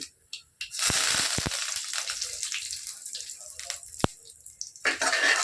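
Mustard seeds and curry leaves fry in hot coconut oil for tomato rice, giving a loud, close, dense sizzling crackle with sharp scattered pops that starts after a brief quiet moment and continues to the end.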